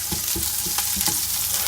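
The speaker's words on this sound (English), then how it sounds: "So just quickly sauteing those onions off." Onions sauté in a pan with a steady sizzle, broken by a few soft stirring knocks as they are moved around.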